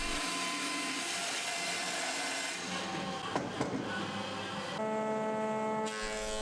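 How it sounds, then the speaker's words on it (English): A bandsaw whines steadily while it cuts through thick salvaged hardwood timber. The tone is constant and fairly close, with a rougher burst of cutting in the middle and a slight shift in pitch near the end. "so I finished the cut at the bandsaw."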